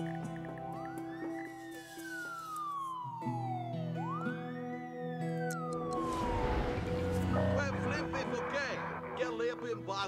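Fire engine sirens wail in the SimCity city-building game, long rising and falling tones sweeping over a busy bed of city and game sounds, loud and continuous, with a few other siren layers overlapping toward the end.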